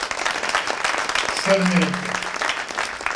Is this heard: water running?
no